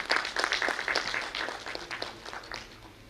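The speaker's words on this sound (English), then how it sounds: "So give a big round of applause to Manoj and Amit." Audience applause at a National Neonatology Forum newborn-week conference: a burst of many hands clapping, loudest at the start and thinning out gradually.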